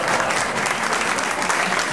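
Studio audience applause fills the room on a Spanish comedy panel show, a dense, loud burst of many hands clapping steadily for two seconds with no voices over it.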